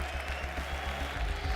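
A large arena crowd at a Counter-Strike major quarterfinal, NaVi versus Eternal Fire at PGL Major Copenhagen 2024, applauds in a dense, steady burst of clapping heard up close.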